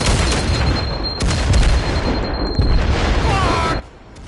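A grenade blast in the multiplayer shooter Firewall Zero Hour, a loud booming explosion with dense noisy rumble lasting several seconds, followed by a sudden drop to quieter ambience.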